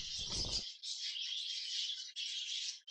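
Caged birds in the video game The Last Door 2 chirp in a bright, continuous high twittering after a brief low thump, with the chirping running on with only tiny breaks.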